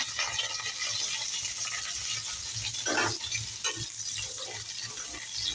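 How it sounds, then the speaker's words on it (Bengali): Onions and green chillies frying in a wok in a home kitchen, a steady close sizzle with occasional scraping stirs, played alone without talk. "এখানে আরেকটা কড়াই বসিয়ে দিয়েছি, এখানে লাউ শাক করবো, শুটকি মাছ দিয়ে করবো, তাই পেঁয়াজ দিচ্ছি, কাঁচা লঙ্কা।"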